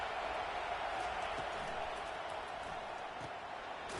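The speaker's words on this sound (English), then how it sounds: "It is getting loud as this crowd tries to help its defense." Dense, sustained roar of a big stadium crowd at a Tennessee vs Florida college football game, steady and loud throughout with no single voice standing out.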